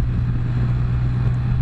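A motorcycle cruising along a road on the way to Bald River Falls and the Skyway, a steady low engine drone with constant wind rumble throughout, no voices.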